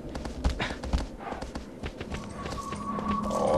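Horse hooves clip-clop in a steady galloping rhythm in the Shadow of the Colossus video game, fairly close and under game ambience, with a rising tone toward the end.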